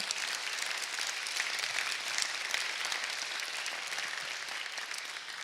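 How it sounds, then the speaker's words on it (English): An audience claps steadily after a university history talk about Wake Forest, a soft, even spread of many hands heard from some distance, sustained for about five seconds without speech. "So a round of applause for all the people that made this happen."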